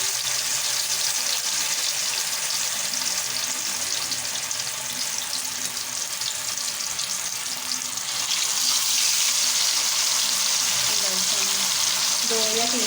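Marinated fish pieces fry in hot oil over high heat, Lahori restaurant style, producing a loud, dense, continuous crackling sizzle that swells slightly louder partway through.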